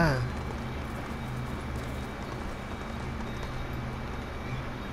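In the video game Ghost of Tsushima, a horse gallops with a steady, rapid clip-clop of hooves under constant ambient game noise.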